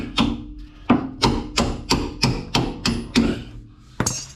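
Hammer blows knocking on a bolt in the front wheel hub of an Australian Ford XR6 ute during a bearing replacement, about ten sharp, evenly spaced metallic knocks, close and loud, with a final harder strike after a short pause.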